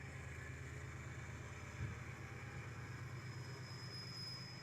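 BNSF-led freight train carrying a coke load rolling past at Griffith, a faint, steady rumble of wheels on rail with light rhythmic clatter, heard from a distance.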